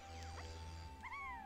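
Faint cat meows from the video game Donkey Kong 64, two short gliding calls over a steady low game background hum.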